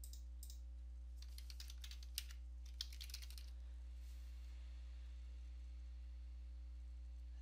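Keys tap in a quick, faint run on a computer keyboard while a search is entered into the Windows 10 Start menu, set against a steady low electrical hum, then only the hum remains.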